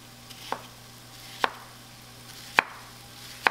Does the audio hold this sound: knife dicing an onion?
yes